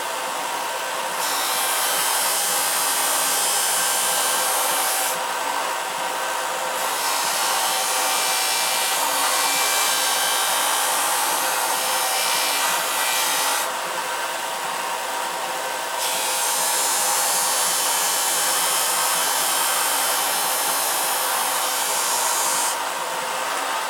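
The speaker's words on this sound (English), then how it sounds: "So we'll bring it down to the line with the sander." A power sander grinds steadily against a piece of wood for a small boat build, a loud continuous whir that briefly eases and returns twice as the workpiece is pressed in and pulled back.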